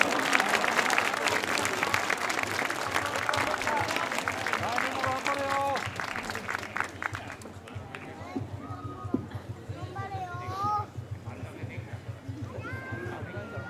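Festival audience applause at the Chichibu Yomatsuri night festival in Saitama, a dense burst of clapping in the opening seconds that thins out and gives way to someone speaking over a loudspeaker amid crowd noise and a steady low hum.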